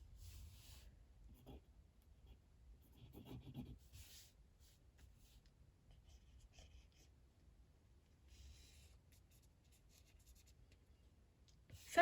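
A pen scratches and rubs faintly across paper in slow blind contour drawing, with soft intermittent strokes and quiet gaps, no voices.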